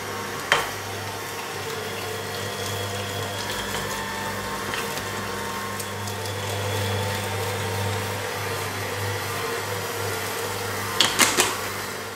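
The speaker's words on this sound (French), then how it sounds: "Je vais prendre 3 échalotes, une gousse d'ail, et puis on va mixer ça assez finement" An electric blender or mini chopper finely mixes three shallots and a garlic clove for ravioli filling. Its motor gives a steady droning whir with a low hum that runs for the whole stretch, with a few sharp knocks near the end.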